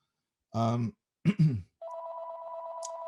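A telephone rings with a steady electronic tone that starts after a short bit of speech and continues unbroken to the end.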